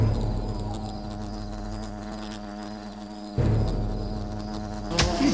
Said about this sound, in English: Wasps are attacking the picnic area!